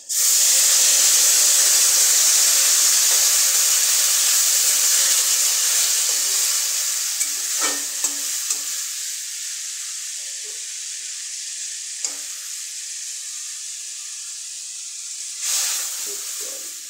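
Water poured into a pan of potato and tomato curry hits the hot surface with a loud, close hiss of steam and sizzle, then slowly fades over several seconds, with a few clinks and a second brief burst of hissing near the end.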